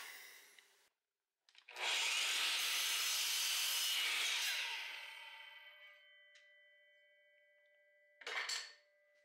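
A blade cutting through wood in a handmade project, a loud rasping cut lasting a few seconds that tapers off, followed after a pause by a brief second scrape.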